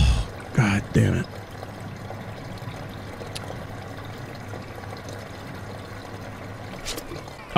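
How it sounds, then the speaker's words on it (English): Pump cleaner being poured in The Mortuary Assistant horror game, a steady liquid trickle running under low background hum after a couple of short louder bumps at the start. "now pour pump cleaner into the"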